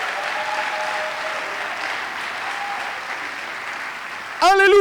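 Sustained applause and acclaim from a conference audience, a broad steady wash that holds throughout before a voice cuts in loudly near the end.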